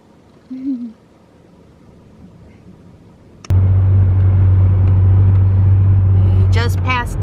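A car drives through traffic near DC, heard from inside as a loud, steady low rumble that suddenly swells in after a quiet start, with a brief voice early on and faint sounds over the road noise.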